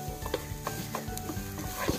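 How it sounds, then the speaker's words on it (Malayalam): Masala for a stuffed bun filling is mixed in a hot pan, a spatula scraping and tapping in a steady rhythm over a low, close sizzle, with no talk. "വീണ്ടും ചെറുതായിട്ടൊന്ന് മിക്സ് ചെയ്ത് കൊടുക്കുന്നുണ്ട്"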